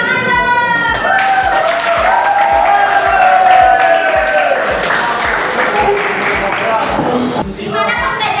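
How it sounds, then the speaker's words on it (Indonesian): A classroom of students claps, a dense burst of applause with some cheering that swells and then fades toward the end, mixed with a few voices. "Tepuk tangan dong"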